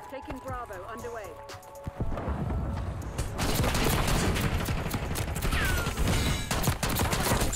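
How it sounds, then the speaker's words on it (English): Dragon's breath incendiary shotgun fire in Black Ops 6 gameplay, loud repeated blasts with crackling, burning bursts amid dense battle noise and game music, continuing steadily after a quieter opening. "let's go ahead and show off the shotgun, fire shotgun nuke gameplay"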